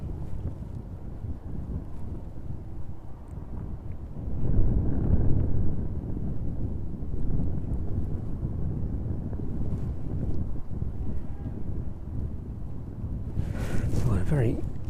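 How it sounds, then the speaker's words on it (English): Heavy wind buffeting the microphone at East Midlands airport in the evening, a steady low roaring rumble that swells and gusts throughout. "Well, a very windy evening it is."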